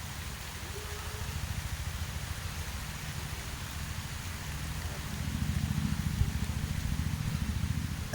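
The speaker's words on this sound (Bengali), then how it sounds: "বৃষ্টি শুরু হয়েছে" Sudden rain falls over a garden as a steady, even hiss of drops, with a low rumbling texture beneath that swells slightly toward the end.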